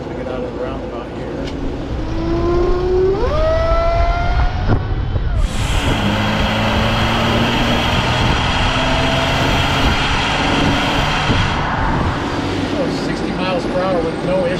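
A 1971 Ford Bronco with a supercharged 3.8 liter V6 accelerates out of a roundabout, heard from inside with the engine note rising, dropping at gear changes, then climbing again under steady road and wind noise.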